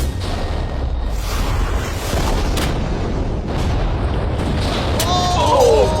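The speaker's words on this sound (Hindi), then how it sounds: "तेज धमाका था।" A very loud TNT blast during a Lamborghini and big shredder stunt, heavy rumbling booms and crackling debris roaring continuously near the microphone, with a few sharper bursts and a rising low-end swell toward the end.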